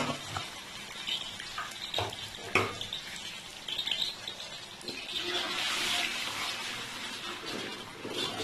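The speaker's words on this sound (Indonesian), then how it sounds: "saya akan menumis terlebih dahulu bumbu yang sudah dihaluskan" Ground spice paste for seblak sautéing in a pan, a soft sizzle with occasional scrapes and clinks of a utensil against the pan, fairly quiet throughout.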